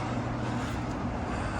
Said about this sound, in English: over there where all the cars are driving